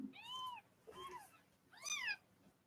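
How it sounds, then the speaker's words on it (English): A week-old kitten gives three thin, high meows close by, with short pauses between them and a quiet room behind. "Here's a kitten."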